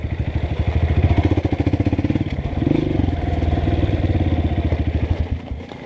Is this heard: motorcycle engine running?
yes